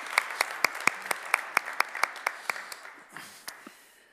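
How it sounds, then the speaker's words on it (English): A small audience at a renewables and technology summit claps briefly, with sparse individual claps ringing out in a steady rhythm before fading into a few last scattered hand claps and room noise. "Now you can clap your hands."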